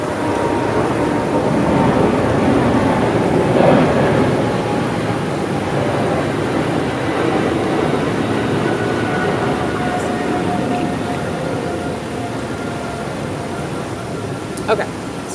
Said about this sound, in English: Hold on, the airplane.